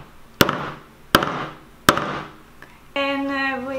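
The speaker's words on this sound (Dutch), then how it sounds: "met een hamer iets van 3 of 4 keer best wel hard slaan" Three hard hammer blows driving a metal eyelet into a crop top, sharp loud strikes about 0.7 seconds apart, each with a short ringing tail, followed by a brief tonal sound.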